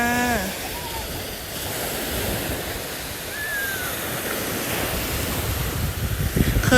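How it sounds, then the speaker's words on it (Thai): Sea waves wash onto a white-sand beach at Sattahip, Thailand, a steady broadband surf roar with wind buffeting the microphone throughout, swelling slightly louder toward the end. "มาฟังเสียงคลื่นกัน"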